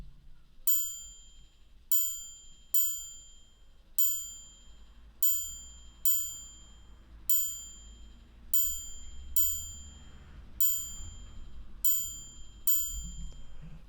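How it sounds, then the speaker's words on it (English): Triangle strikes ring out bright and metallic in a steady repeating pattern, each hit decaying quickly, about a dozen across the span, over a faint low bed within a beat. "I've got this triangle playing."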